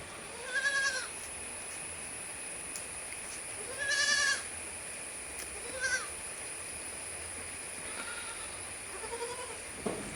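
Two young goat kids bleat in short, wavering calls, four or five bleats spaced a few seconds apart over a steady hiss of background noise, moderately close.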